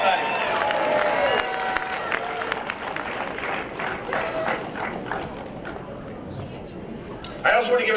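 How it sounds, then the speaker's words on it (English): An audience applauding at a Senior First Night event, sustained clapping from a crowd in a hall, dense at first and thinning out toward the end. "So I also want to give them a little round of applause for all they do."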